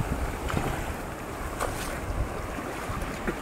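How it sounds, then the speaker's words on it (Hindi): Strong waves surge and wash continuously at Ganga Sagar, the sea at the Ganges mouth, with a steady broadband roar, a few splashy bursts and wind buffeting the microphone. "देख सकते हैं पानी की लहरें कितनी तेज आ रही है यहाँ पे।"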